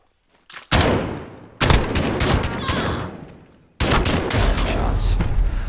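Video game gunfight: loud, dense bursts of rapid gunfire in three long volleys separated by brief gaps, close and harsh with no talk.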